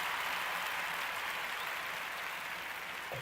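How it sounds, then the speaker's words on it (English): Studio audience applause after a cue to clap for Britney Spears on a talk show, a steady broadband patter of many hands heard close and at even loudness throughout, with no talk over it. "Let's give Britney Spears a round of applause"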